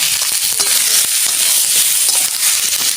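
Fish curry with Kashmiri chili frying loudly in a pan, a dense continuous close sizzle with faint stirring scrapes throughout, no talk.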